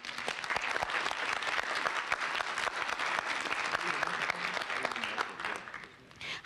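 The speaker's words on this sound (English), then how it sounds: "Please give all our sponsors a loud round of applause." An audience gives a sustained, dense round of clapping for event sponsors at a youth speaking event in Grand Rapids, steady and full throughout before tapering off near the end.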